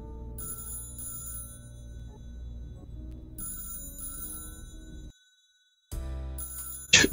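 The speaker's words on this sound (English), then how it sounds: "Oh, the phone is still ringing." A telephone rings in the video game Dead Plate, repeated bursts of bright trilling bell over a soft music bed, broken by a short silence before the rings return louder at the end.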